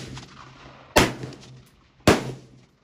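Two sharp, loud gunshots from a 20-inch DMR rifle at a shooting range, about a second apart, each a hard crack followed by a short decaying echo over faint background noise.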